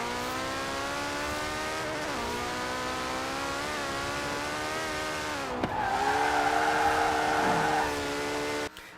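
A fast car in Forza Horizon 4 revs and accelerates, its engine note climbing through gears with brief dips at shifts, loud and continuous before cutting off abruptly.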